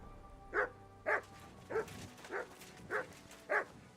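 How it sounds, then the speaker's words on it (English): A dog barks six times in a slow, even rhythm in the video game Kingdom Come: Deliverance II, each short bark clear and separate with quiet pauses between. "Mutt, what the hell are you barking at, bro?"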